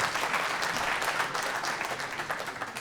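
An audience at a mountain safety round table conference applauds steadily, a dense and fairly distant wash of clapping that lasts the whole moment without talk.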